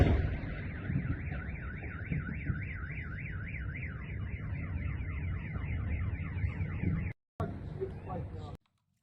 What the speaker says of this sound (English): we heard a massive explosion that set off a lot of car alarms